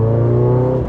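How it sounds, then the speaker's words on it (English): The twin cam engine of a 1986 Toyota Corolla AE86 GT Coupe holds a loud, steady rev, a close, continuous mechanical drone heard alone. "So this engine sounds so good."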